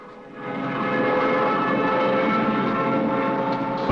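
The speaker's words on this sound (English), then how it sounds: "Something's wrong with the motor." A failing airplane engine in flight, heard in a 1941 film, swells in after a brief pause into a loud, steady, droning roar that holds without a break.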